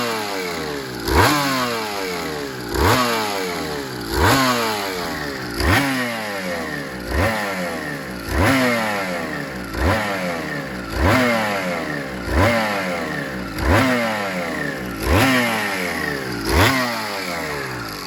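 A Suzuki RGV250M two-stroke motorcycle engine runs just after start-up, with the choke off, settling into a loud, uneven idle. It blips in regular bursts of revving and clatter roughly every second and a half, close by, with no talking.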